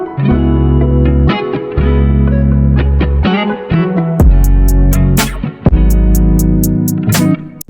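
A soloed hip-hop beat plays during a mixing session, with heavy sustained bass notes, a steady groove and sharp hi-hat or snare hits entering halfway through, loud and dense with effects, no voices.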